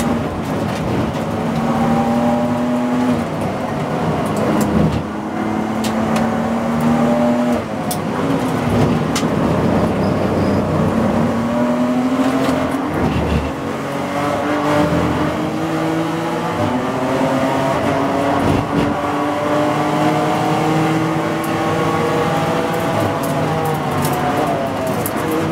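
Touring cars of the TC America series race at Circuit of the Americas, engines revving hard and climbing through the gears in repeated loud sweeps. Several cars run close together and roar continuously, with no voices over them.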